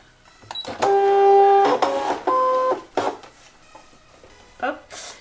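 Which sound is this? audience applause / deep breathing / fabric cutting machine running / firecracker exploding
fabric cutting machine running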